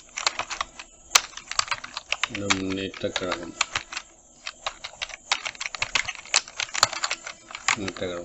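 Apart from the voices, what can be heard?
typing on a computer keyboard in Photoshop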